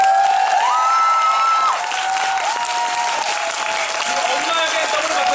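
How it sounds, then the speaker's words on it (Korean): Audience applause for actors at a musical's curtain call, steady clapping from a theatre crowd with some cheers, running under a performer's spoken introductions and sustained background music. "나오실 때마다 여러분 좀 큰 박수 좀 부탁드릴게요"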